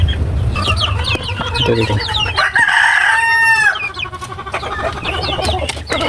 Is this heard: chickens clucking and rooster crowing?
yes